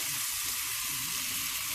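Steady, dense sizzling of mirepoix vegetables frying in a hot pan, a bright crackling hiss that holds constant throughout, close up with no talking.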